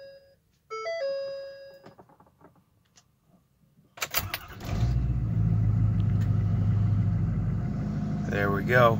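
A 2011 Ford 6.7 Powerstroke diesel cold-starts outdoors in wintry weather after a few electronic door chimes, cranking briefly and catching into a loud, steady low rumble of idle that carries on to the end.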